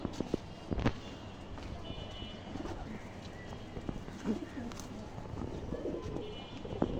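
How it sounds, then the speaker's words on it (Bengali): Soft cooing from a female silver pigeon repeats at a moderate distance over a busy background of rustling and faint chirps, with no talking. "এটা একটা মাদি কবুতর সিলভার।"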